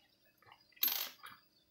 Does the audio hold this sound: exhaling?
no